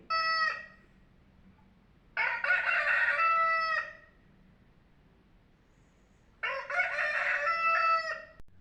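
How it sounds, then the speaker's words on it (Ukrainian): A rooster crows three times, loud and near, each call a drawn-out cock-a-doodle-doo separated by quiet pauses. "Вранці, коли тільки прокидається сонечко, півень починає кукурікати."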